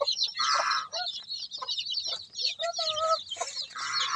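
Rhode Island chickens clucking in a backyard farm, a busy flock of overlapping clucks and short calls close by, with a rooster-like tone at moments and steady chatter throughout.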